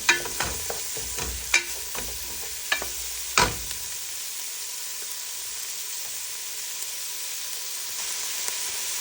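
Onions frying in a pot as the base for pork ribs soup, a steady sizzle and hiss with several sharp clacks of stirring early on, then settling into an even frying hiss.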